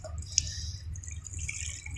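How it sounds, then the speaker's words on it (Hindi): Water poured onto a sand sample during a silt wash, with soft trickling and a single bright drip-like splash near the start over a steady low rumble; no talking. "पानी डालो उसमें"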